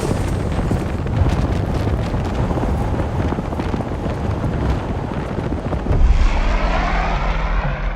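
Propeller aircraft engines keep running on a dirt landing area in South Sudan after touchdown, a loud close roar with wind buffeting the microphone, and the engine note shifts and swells near the end.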